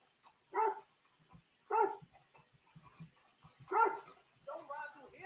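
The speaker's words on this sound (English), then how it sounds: "Didn't know we had a dog." Dog barking in a video game, four sharp yaps spaced about a second apart, with a whiny vocal trailing at the end and quiet background sounds between.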